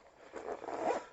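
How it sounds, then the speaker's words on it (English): Zipper on a compartment of a Lidl Crivit bike frame bag being pulled, a close, quiet rasping zip that builds over about a second with no talk. "And this compartment's got two zips."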